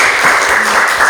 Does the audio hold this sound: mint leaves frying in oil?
no